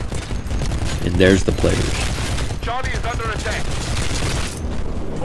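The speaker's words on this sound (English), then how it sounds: "Now the gun I'm using, it's called the chain gun. It shoots, it's like a machine gun for Titans." Heavy chain gun fire from a Titan's machine gun in the video game Titanfall, a dense continuous rattle of rapid shots throughout, with someone talking over it.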